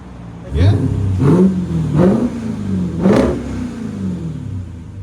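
A straight-piped 2023 Dodge Durango Hellcat SRT, its supercharged 6.2-liter V8 barking through four quick revs near the listener, each sweep falling back into a rumbling idle, with a voice briefly heard.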